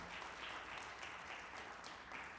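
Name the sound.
applause in church service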